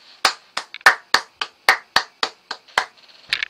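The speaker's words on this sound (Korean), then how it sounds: "이거 박수, 진짜." Twelve sharp, separate claps sound close and loud in a fairly steady rhythm, tailing off into a quicker, softer cluster at the end.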